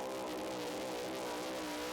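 Loud, sustained engine roar of a 6,200-pound pulling truck at an outlaw truck pull, a dense, unbroken, strained drone with no pauses and no voices.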